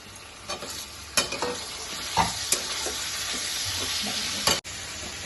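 Chopped carrot and thinly sliced capsicum stir-frying in a pan for fried rice, with a steady sizzle broken by sharp scrapes and clacks of a spatula against the pan.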